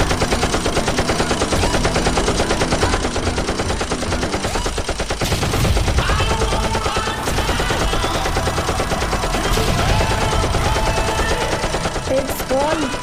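Sustained machine gun fire in a KGF Chapter 2 film scene, a dense rapid continuous rattle, loud throughout, with voices and dramatic music layered underneath.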